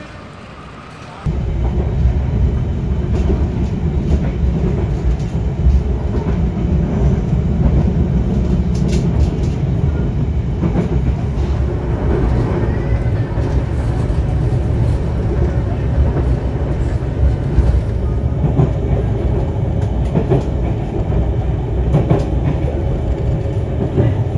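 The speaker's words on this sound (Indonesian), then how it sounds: "Wow, ini kereta apa ini? Tahu-tahu ngoeng-ngoeng." A train rumbles past close by, a loud steady low roar with rattling and clatter that fills the whole stretch, starting abruptly and holding constant.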